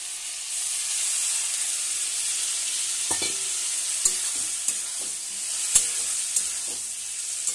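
Spices for a fish curry with drumstick stems sizzle and fry steadily in a pan with a little water, with soft scattered clicks and scrapes as they are stirred.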